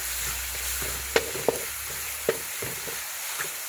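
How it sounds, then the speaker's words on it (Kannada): Tomatoes frying in a pan with salt, cooked for a village-style poha upma: a steady soft sizzle runs throughout, punctuated by three or four sharp clicks of a spoon scraping or tapping the pan, with no voices. "ನೋಡಿ ಈಗ ಸ್ವಲ್ಪ ಇದು ಚೆನ್ನಾಗಿ ಟೊಮೊಟೊ ಎಲ್ಲ ಫ್ರೈ ಆಗಲಿ"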